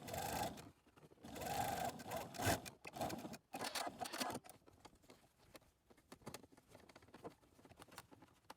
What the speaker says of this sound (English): we're just going to fold over the edge and sew that